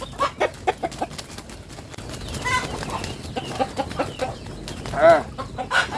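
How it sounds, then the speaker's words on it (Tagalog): Barako rooster clucking nearby, a series of short irregular clucks and calls over rustling farmyard background noise, with one louder call near the end. "Ito yung isang natira natin na barako. Pero sobra kasi na tapang."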